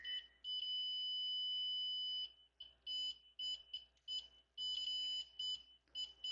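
High, sharp electronic beeps during engine computer repair on a 2002 Mercedes C240 with a no-crank fault: first one long tone lasting nearly two seconds, then a run of shorter, uneven beeps, clear and close over a faint low hum.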